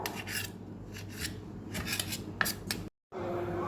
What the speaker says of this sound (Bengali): এবার পাউরুটি নিয়ে আমি পাউরুটির সাইডগুলো আমি কেটে নিলাম